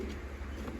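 Young pet rubella birds give soft, low cooing calls close by over a steady background hum, a short burst with no talking.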